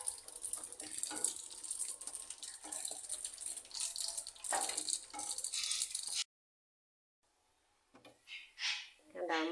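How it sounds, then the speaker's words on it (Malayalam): Rice grains frying in hot oil on a stove for a ginger curry, a busy crackling sizzle with scattered pops and clatter for several seconds, then a brief silence followed by a few louder rattles. "അതിനെ നന്നായിട്ട് വറുത്ത് അത് പൊട്ടി ഏകദേശം പൊടിക്കുന്ന പരുവം വരെ ആകുമ്പോൾ അതിനെ നമ്മൾ വറുത്ത് കോരുക"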